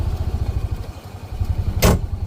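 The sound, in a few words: Honda Pioneer 700 UTV engine while driving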